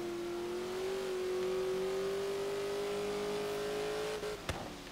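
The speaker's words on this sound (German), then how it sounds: "Was Sound ist geil, ne? Ist halt logischerweise ein V8 Heckantriebveranstaltung." A V8 rear-wheel-drive car engine in Forza Horizon 3 revs loud and sustained with a steady rising drone, ending in a sharp crack near the end, with no talk over it.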